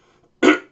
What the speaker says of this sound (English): I've had this cough and cold.